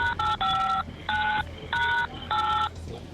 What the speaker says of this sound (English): Don't press any buttons on the phone so I can hear you.